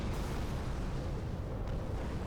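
Heavy, sustained rumbling crash as a frigate rams and destroys another ship in Halo Reach, a dense continuous roar of impact and breakup with no pauses, loud throughout and heard alone without any talk.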